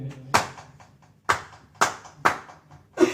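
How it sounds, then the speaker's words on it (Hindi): Hands clap five times at uneven intervals, each a sharp, fairly close slap standing alone against a quiet background. "अच्छी ताली बजती है"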